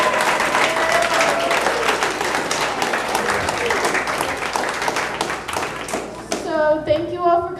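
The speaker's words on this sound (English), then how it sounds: "why don't we give all the poets another round of applause?" Audience applause at a library poetry open mic night, a steady wash of clapping hands lasting several seconds, with a voice speaking briefly near the end as the clapping fades.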